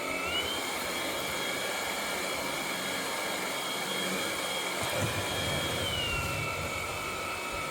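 A Dreametech T30 cordless stick vacuum runs over a rug in auto mode, a steady close whine with a high motor tone that dips slightly in pitch midway, constant and unbroken without speech.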